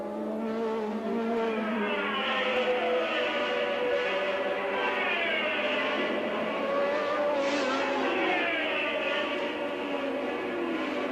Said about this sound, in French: le voilà Piquet, il est pas très loin, mais tout de même légèrement survireux en sortie de chicane